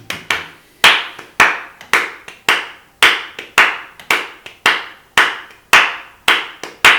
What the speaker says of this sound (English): we're just going to clap that rhythm.